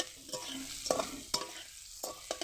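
Taro pieces coated in black pepper, chilli and coriander powder stirred in a pan for a dish with rohu fish head, with a soft sizzle under three or four distinct scraping strokes of the spoon.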